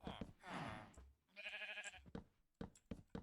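Two drawn-out sheep bleats, each under a second long, followed by a few short knocks and clicks, all fairly quiet.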